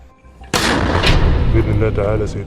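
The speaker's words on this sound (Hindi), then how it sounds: "एक एक करके रॉकेटों को लॉन्चर में भरकर दागा जा रहा है" A rocket launches from a launcher fired by Hamas fighters in the Gaza war, a sudden loud near blast followed by a sustained roaring whoosh with a few sharper cracks, and no voices present.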